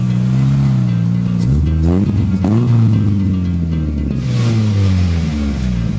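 A hybrid car's engine hums close by, its pitch rising and falling as it revs and accelerates, with no talking.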